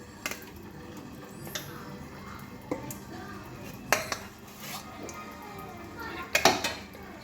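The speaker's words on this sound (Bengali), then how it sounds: "চিকেন দিচ্ছি দেখুন।" Chicken being added to a biryani pot, with clattering metal spoon and pot knocks, scattered clinks and a few louder bangs near the end, close by, while a voice talks quietly underneath.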